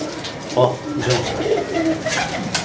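Pigeons cooing among a roosting group, with a mother bird sitting below; a few soft low coos rise over a murky background with faint voices nearby.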